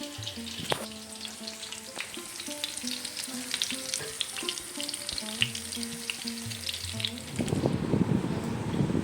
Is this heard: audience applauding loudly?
no